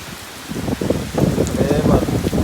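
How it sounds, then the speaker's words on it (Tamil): Heavy cyclone rain pours down in Chennai in a dense, constant hiss, while a voice murmurs faintly underneath. "சரியான மழை பாருங்கள்."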